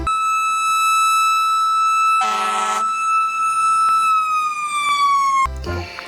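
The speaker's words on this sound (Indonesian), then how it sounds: "Lihat teman-teman, di sini ada mobil pemadam kebakaran." A toy fire truck's electronic siren plays a steady, bright wailing tone that slowly dips in pitch, broken by a short buzzy burst partway through and a clatter at the end.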